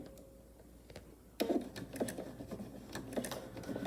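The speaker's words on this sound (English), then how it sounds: "I will sew the same exact way all the way around my pouch" Sewing machine stitching slowly around the seam of a vinyl pouch, quiet at first, then a run of rapid close clattering stitches in short bursts.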